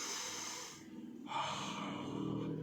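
A person breathes audibly, a long airy inhale followed after a short pause by a louder, rougher exhale, close and steady with no talking.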